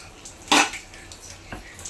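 Household pots and dishes are handled, with one loud metallic clatter followed by a softer knock and faint rattles, close and otherwise quiet.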